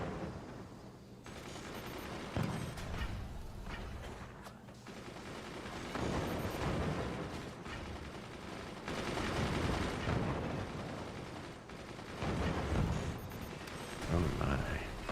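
Machine gun fire in the Forts RTS video game, dense bursts of rattling gunfire mixed with booming impacts and explosions, sustained and loud throughout, with a voice talking over it.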